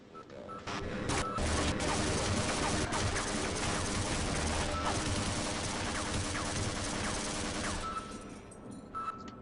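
Automated turrets in Half-Life fire rapid, continuous bursts of gunfire at enemies, a loud sustained rattle of shots with occasional booms that tapers off near the end.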